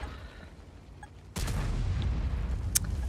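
A single heavy gunshot in a video game, played during a night stream, booms suddenly after a quiet stretch and leaves a dense, rumbling tail, followed by a sharp click.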